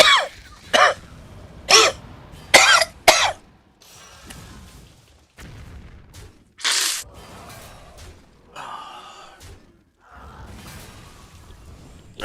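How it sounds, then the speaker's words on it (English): A person coughs and clears their throat in a run of sharp, loud bursts near the microphone, then lets out a few quieter coughs with softer noises in between. "I do apologize for all this coughing"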